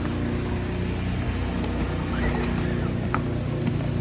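A Powersmart PS5025 2200W four-stroke OHV gas inverter generator runs steadily after being pull-started, a quiet, even low engine hum with no talking over it.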